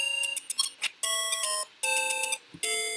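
A Zelda II-themed interactive timer on a Game & Watch sounds its alarm: bright chiptune beeping tones in quick repeated bursts and short melodic runs, clear and close.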